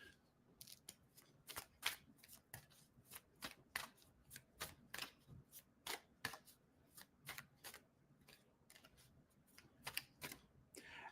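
Tarot cards are shuffled and drawn close up, with quiet, rapid papery riffles and flicks in irregular bursts throughout, while a voice murmurs faintly in the background.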